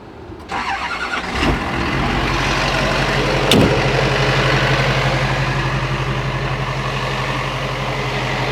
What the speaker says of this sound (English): let me fire it up for you guys so you can get a taste of what it sounds like